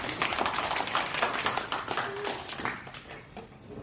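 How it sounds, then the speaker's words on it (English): A group applauding together for a fellow anime club member at a college club election meeting, steady dense clapping that holds for a few seconds and then thins out. "So we all give a clap to Saud."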